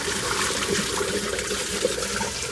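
Water draining out the bottom of a food grinder, a steady close trickling and gushing flow that runs without a break and with no talk over it.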